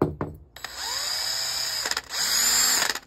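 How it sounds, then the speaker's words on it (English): A power drill whines at steady speed, stops briefly, then spins up again, close and fairly loud, while disassembling a cheap folding knife. "I need a new drill."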